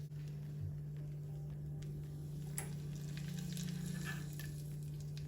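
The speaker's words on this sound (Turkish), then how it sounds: "Ardından güzelce karıştırıyoruz." Melted mint and butter are stirred into a meze mixture in a pan, giving a soft continuous scraping and stirring sound over a steady low hum, quiet and close.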